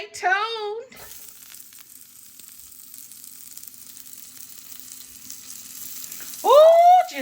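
Sweet red and orange bell peppers and green onions sizzle in hot pork drippings with a steady, low crackling hiss, bracketed by a person talking at the start and end.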